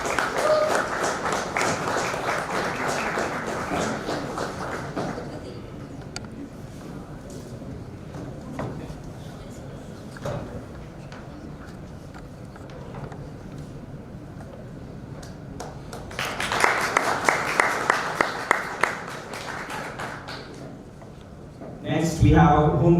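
Applause from an audience at the ETHforAll hackathon kick-off, welcoming the Devfolio team: a long burst of clapping at the start, a quieter stretch, then a second swell, with speaking voices in between.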